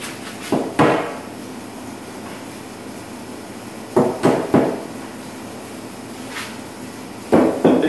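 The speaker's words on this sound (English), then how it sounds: "and then we want to go ahead and get our bolts out." Bolts being removed from a Q*bert arcade cabinet during restoration: a few scattered metallic clanks and knocks, some in quick pairs, against a quiet room hum with no speech.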